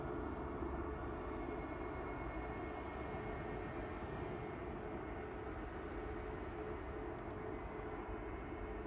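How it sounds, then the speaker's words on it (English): A KLM Embraer E195-E2 jet departs Manchester Airport for Amsterdam, its engines giving a steady, continuous broadband roar at moderate distance, unbroken for the whole stretch with no talk. "KLM flight 1038 off to Amsterdam, PH NXN E195E2"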